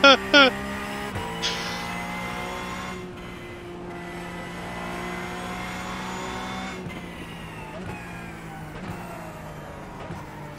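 Porsche 911 GT3 Cup race cars roar in a crowded iRacing pack of 59 AI drivers at Daytona, with a sustained engine howl that shifts pitch through gear changes and a few tire scrubs.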